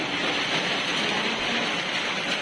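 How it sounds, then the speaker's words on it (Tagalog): Steady rain falls throughout as a dense, even hiss with no breaks, fairly loud and close, and no voices over it. "Mo surut ang ulan."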